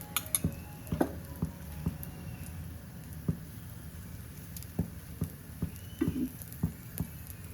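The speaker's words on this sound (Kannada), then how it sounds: "ಇನ್ನೊಮ್ಮೆ ಎಣ್ಣೆ ಹಾಕಿ ಫ್ರೈ ಮಾಡಿ" Holige (obbattu), a sweet chana dal flatbread, fries in oil on a pan with a soft, steady sizzle. A spatula or utensil knocks and scrapes against the pan at irregular intervals, close by.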